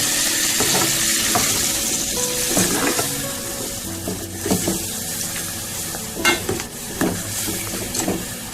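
Tomato paste mixed with water sizzles steadily in a pan, with scraping and stirring clatter from a spoon against the metal throughout.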